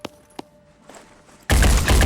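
Gunfire in the Phoenix Point video game: two sharp, faint clicks, a quiet lull, then a loud burst of rapid shots that starts abruptly and keeps going.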